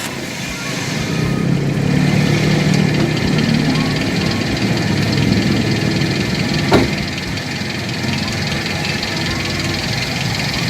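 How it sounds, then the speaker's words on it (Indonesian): A 1.0-litre Toyota Starlet EP70 engine idles steadily with a smooth, even rumble, holding constant throughout with a brief small bump midway. "untuk suara mesin sendiri, dia pertama dia langsam, nggak pincang"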